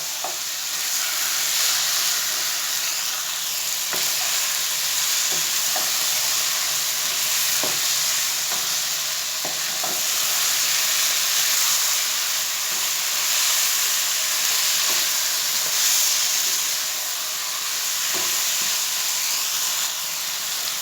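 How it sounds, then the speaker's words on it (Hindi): Chicken bhuna masala roasting in a pan over a high flame gives a steady, loud sizzle and hiss, broken by occasional soft clinks and scrapes of stirring, with no one talking. "हाई फ्लेम पर इसको अच्छी तरह भून लें।"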